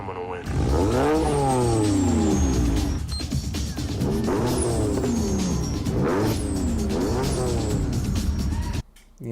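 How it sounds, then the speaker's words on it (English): A turbocharged car fitted with a Greddy Type S blow-off valve revs in repeated rising and falling sweeps, with a high whistling hiss over the loud, close engine note before cutting off abruptly at the end. "The Greddy Type S makes that whistling sound."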